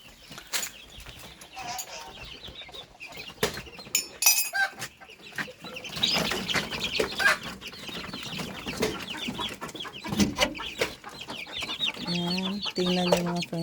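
Chickens and grown chicks cluck and chatter on a farm, several birds calling at once with scattered squawks and brief wing flaps, fairly close, with faint background voices at times.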